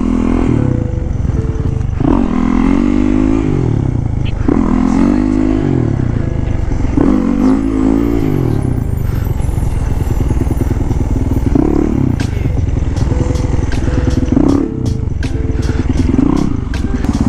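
A motorcycle engine revs up and eases off again and again, close and loud, riding over bumpy side streets, with rattling clatter and rushing wind over the ride.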